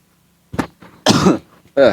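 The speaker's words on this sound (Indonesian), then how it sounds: "Batuk deh." Coughing and throat clearing from a man during an Islamic religious study lecture indoors, a few short bursts close to the microphone with brief pauses between them.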